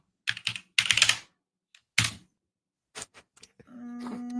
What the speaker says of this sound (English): Your keyboard's so noisy tonight.